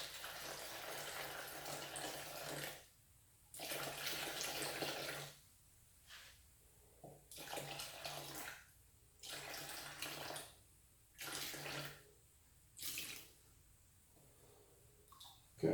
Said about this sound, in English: what I need to add now, I'll zero that, is 737 grams of tap water